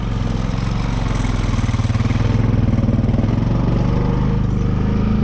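A Can-Am 650 or Honda Foreman 520 ATV engine labors up a hill, a steady, loud mid-pitched drone with a rough clattering pulse that grows slightly fuller partway through, with no talking.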